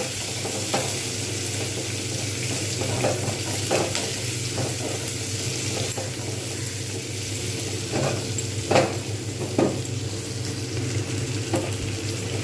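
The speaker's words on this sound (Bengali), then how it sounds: "এইবার আমি এর মধ্যে দিয়ে দেবো পেঁয়াজগুলো পেঁয়াজগুলো কিন্তু আমি খুব সুন্দর লাল করে ভাজবো" Onions frying in oil in a pan with a rohu fish head, a steady sizzle running throughout, with occasional stirring clinks and scrapes, close and fairly loud, no talking.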